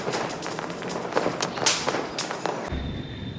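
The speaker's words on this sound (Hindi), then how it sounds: "देखो कितने तेज तेज पटाखे फूट रहे हैं" Loud firecrackers bursting during Diwali in a residential society area, a rapid series of sharp cracks and pops at varying distances, with one especially strong burst in the middle before the sound cuts off abruptly.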